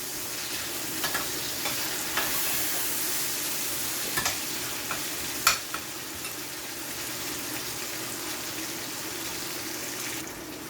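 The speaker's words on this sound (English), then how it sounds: "See, the tomato is all fried up." Tomato frying in a pan for Jamaican-style saltfish: a steady, close sizzle with occasional scrapes and clinks of stirring, alone and without speech.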